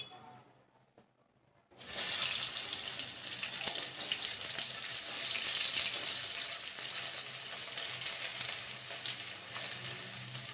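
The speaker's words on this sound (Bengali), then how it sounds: "প্রথমে আমাকে পেঁয়াজগুলোকে ভেজে নিতে হবে।" Onions drop into hot oil in a wok after a near-silent moment, setting off a sudden loud sizzle that keeps crackling steadily and fairly close to the end.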